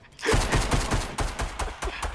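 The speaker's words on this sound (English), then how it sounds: "Stop shooting it!" Rapid gunfire in the video game Fortnite, a loud burst of repeated close shots in quick rhythm lasting the whole moment, with no talk over it.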